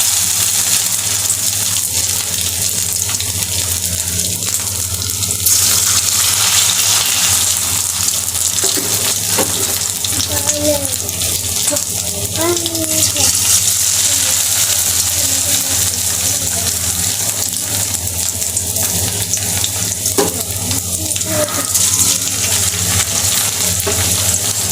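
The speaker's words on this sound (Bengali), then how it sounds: "তো আমার তেল গরম হয়েছে, এখন আমি নুডলসের পকোড়াগুলো দিয়ে দেব" Shaped noodle pakoras frying in hot oil, four at a time, giving a constant, dense bubbling sizzle that runs evenly and loudly throughout, with occasional faint background sounds.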